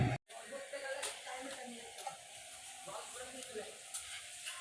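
An aunt cooking food in a home kitchen, with soft sizzling and stirring hiss running steadily under a person talking, after a brief sharp noise at the start.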